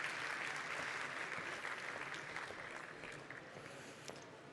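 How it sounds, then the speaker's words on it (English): Steady audience applause after a panel on water scarcity at ChangeNOW 2024, a dense even wash of clapping from a crowd that holds for a few seconds and tapers slightly, fairly faint and distant. "Big round of applause."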